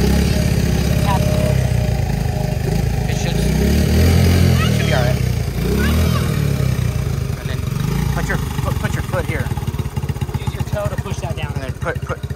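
A motorcycle engine idles and revs loudly and close by as a beginner learns to work the gas and shift gears at a campground, its steady rumble running throughout while people talk over it.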